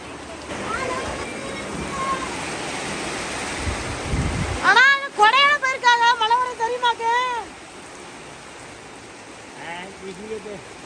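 Storm rain pours in a steady broadband hiss with gusting wind, while voices talk over it partway through.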